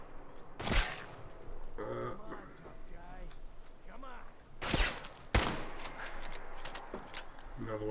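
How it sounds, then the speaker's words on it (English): Gunfire in the video game Fallout 4, a few sharp loud shots and short bursts spaced apart, with someone talking between them. "Where are you shooting?"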